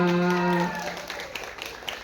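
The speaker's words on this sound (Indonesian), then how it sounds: "Tepuk tangannya mana?" Light applause from an audience at an Islamic religious lecture rises after a short spoken line and continues as a faint, scattered patter of claps.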